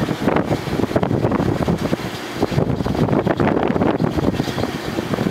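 Steady wind buffeting the microphone, a continuous rough rumble with gusty fluctuations throughout, loud and close, with no voices.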